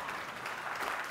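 Audience applause at a company talk, a steady dense clapping from a room full of people that stays loud and even from start to finish with no voices on top.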